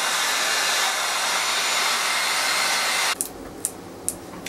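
A heat gun blasts hot air onto old glue in a mid-century modern furniture joint, a loud steady whoosh that cuts off abruptly, followed by a few faint sharp clicks.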